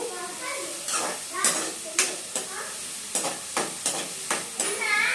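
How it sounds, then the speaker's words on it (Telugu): Sliced onions fry in a pan until brown, a steady sizzle broken by repeated scraping stirs at close range. "అంటే బ్రౌన్ కలర్లో వచ్చేంత వరకు వేయించుకోవాలి ఉల్లిపాయలు"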